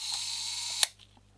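A Mamiya RB camera fitted with a Mamiya-Sekor C 127mm f/3.8 lens gives a soft mechanical whir and then one sharp, close shutter click, trailed by faint small clicks and no voices.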